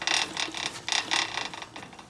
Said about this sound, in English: that noise you're hearing is the frame being eaten up by the chain